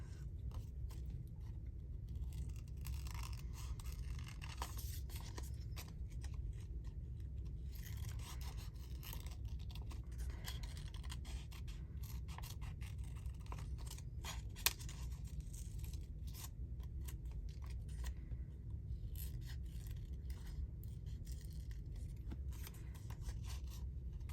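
Scissors cut steadily through paper at a craft table, a continuous close crisp snipping and scraping that runs almost unbroken, with a few sharper slices along the way.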